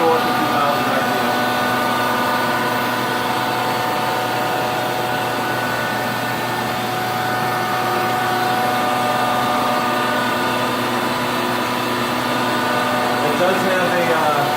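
A large shop machine runs at 1,000 RPM with a steady, loud mechanical drone and humming tones that hold level throughout, with no voice heard.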